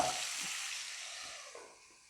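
Chicken pieces for butter chicken sizzling and frying in a pan, a soft steady hiss close by with no voices.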